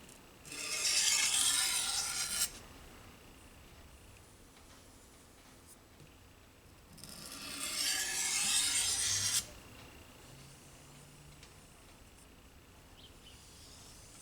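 A knife blade is ground on a simple sharpening stone in two separate strokes of harsh, raspy scraping, each lasting about two seconds with a quiet pause between, close and distinct.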